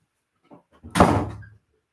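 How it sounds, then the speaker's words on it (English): A door that won't stay shut bangs once, a loud close thud that follows a few soft knocks and rattles, then quickly dies away into silence. "My damn door won't stay shut."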